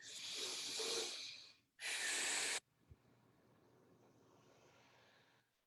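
A deep, forceful inhale drawn through the nose as a breathwork exercise, followed by a second sharper, shorter intake, both close and loud, before fading into quiet breathy room tone.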